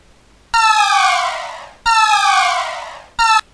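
Synthetic alarm tone for a 2D game, a bright buzzing electronic wail that sounds twice for over a second each time, then a short third burst, loud and clean against silence.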